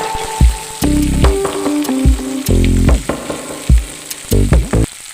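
Onions sizzle loudly as they fry in a pan for a cauliflower stem chorchori, with bursts of frying noise and stirring scrapes in an uneven rhythm, close and with no talk.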